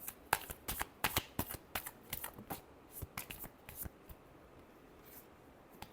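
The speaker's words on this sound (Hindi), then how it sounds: "last shuffle" Tarot cards are shuffled by hand in quick bursts of crisp riffling and flicking, close and fairly quiet. The shuffling thins out toward the end.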